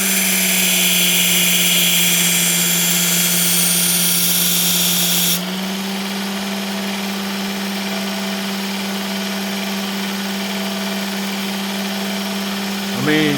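A Work Sharp Ken Onion powered belt sharpener hums and whines steadily while polishing the edge of a hard HCR steel knife. The pitch shifts partway through and the sound continues as an even, close drone.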